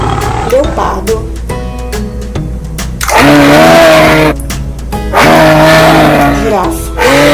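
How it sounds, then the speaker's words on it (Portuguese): Leopard roaring in two loud, rasping bursts with a low rumbling growl between them, close and harsh, standing alone without talk. "leopardo"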